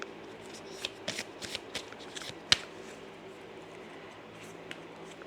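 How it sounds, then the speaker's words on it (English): An oracle card deck being shuffled by hand: a run of quick papery riffles and slaps, close and fairly quiet, with one sharper snap near the middle and no talk. "I'm going to pull some more from this deck."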